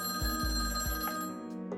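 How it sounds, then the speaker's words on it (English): A telephone rings late at night in a quiet house, its bell pulsing in a few repeated bursts before falling silent. "the silence was broken by the sound of a phone ringing"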